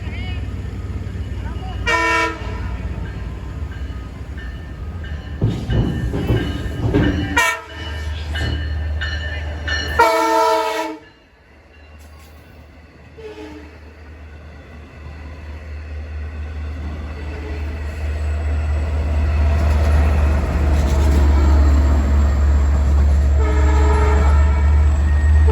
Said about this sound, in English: It's one of the rare Montauk branch trains that make mainline